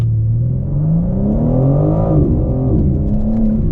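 A 2022 BMW M4 Competition xDrive engine revs hard under acceleration, rising in pitch and then dipping sharply at a gear change before climbing again, loud and close throughout with no talking.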